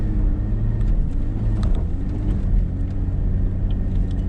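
A car climbing a steep snowy rural road toward big drifts, heard from inside as a steady low engine and road rumble, loud and continuous with no voices.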